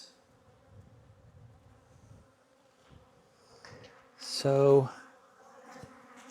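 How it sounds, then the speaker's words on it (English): Honey bees hum low and steady in an opened hive during winter in the southeast, swelling into a brief loud buzz near the end, with a voice heard faintly. "Whoa, look at all those bees."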